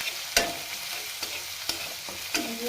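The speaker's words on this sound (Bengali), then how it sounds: "তেলের মধ্যে যে আদা রসুনের কুচি দিয়ে দিলাম, বেশ কিছু আদা রসুনের কুচি দিয়ে দিলাম" Chopped ginger and garlic frying in hot oil, a steady sizzle broken by a few sharp scrapes of stirring against the pan, close and without talk.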